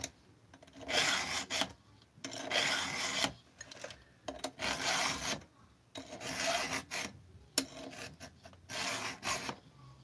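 A hand file rasps across a workpiece in about eight steady, evenly spaced strokes, each a close, gritty scrape followed by a brief pause.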